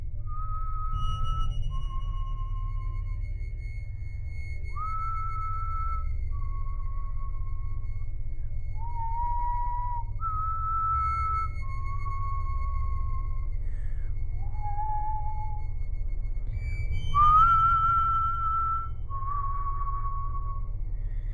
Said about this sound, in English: I started hearing a faint whistling coming down the hallway towards the bedroom